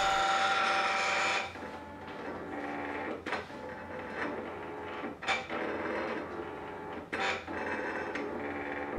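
An electronic craft cutter works through pop-up card paper with a whirring motorized buzz and short printer-like carriage sweeps recurring every couple of seconds, quiet and close, with no speech.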